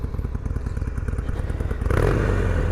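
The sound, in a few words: motorcycle engine with stock exhaust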